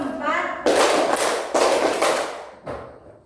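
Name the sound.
children clapping on cue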